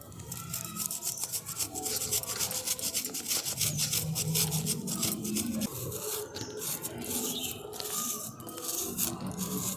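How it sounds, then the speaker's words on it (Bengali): A block of paneer is grated for a green mung dal recipe, producing steady rapid rasping strokes against a grater, close and continuous throughout with no voices. "এই পনিরটাকে আমি গ্রেড করে এর মধ্যে"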